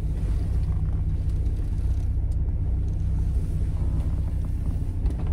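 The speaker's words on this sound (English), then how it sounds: "So this is a 4-cylinder vehicle." A Mazda NB Miata with a 4-cylinder engine runs as a steady low rumble from inside the car, with wind noise over it and no voices.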